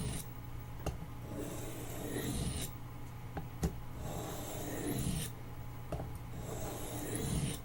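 A Marbles D2 trapper knife drawn across a sharpening stone, faint close scraping strokes in slow repeated passes, each a soft gritty rasp separated by short pauses and light clicks.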